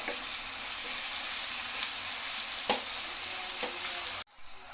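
Thinly sliced tomatoes sizzle in a pan for egg keema curry, a steady close frying hiss with a couple of faint scraping taps, cutting off abruptly just before the end.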